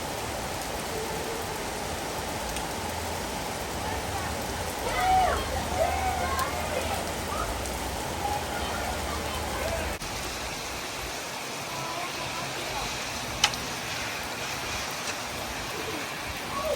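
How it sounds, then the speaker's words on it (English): Heavy rain pouring down in a sudden Utah storm, a constant close hiss of falling water, with a few faint bird calls briefly audible partway through. "a storm decided to roll in out of nowhere and start dumping rain on me"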